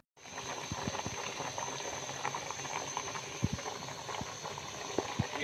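Camel karahi boiling uncovered in a pot as its water cooks off, a steady close bubbling simmer with frequent small pops and sputters throughout.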